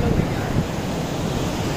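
A waterfall in Kullu roars as a steady, broadband rush of falling water mixed with wind buffeting the microphone, loud and unbroken over under two seconds.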